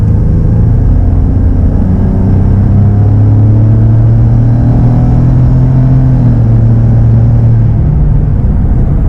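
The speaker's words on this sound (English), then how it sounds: "we can hear the turbo spool up a little more through the exhaust now as well with the AFE intake" A 2018 Ford F150 with an AFE Twisted Steel catless Y-pipe, new downpipes and an AFE intake revs loud and close, a deep sustained engine rumble with rising and falling pitch and a faint turbo whir.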